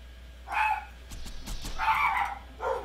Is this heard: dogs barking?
yes